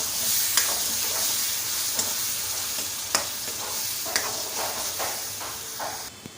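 Ground paste being stirred into a ragi semiya mixture in a hot pan: a steady, close sizzle and hiss with regular spoon scrapes and taps every second or so.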